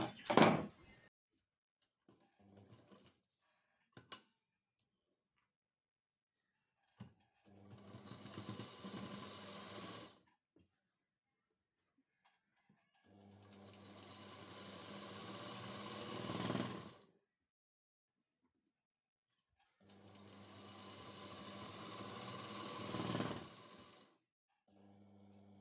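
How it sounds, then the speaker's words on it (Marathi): Sewing machine stitching the side seam of a kurti, running in three sustained bursts of several seconds each, close and fairly loud, with short clicks and handling sounds between runs. "सेम ह्याच पद्धतीने आपण साईडला पण टिप टाकून घेणार आहोत."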